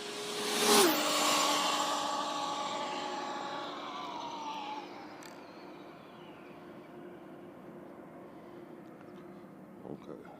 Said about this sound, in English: Looks like I got a full throttle pass in.